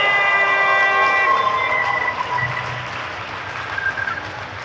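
An arena crowd at a women's basketball game between the NC Capitals and Georgia Fire roars and cheers as the announcer whips up noise, a loud sustained wall of voices with horn-like tones riding over it early on before fading slightly.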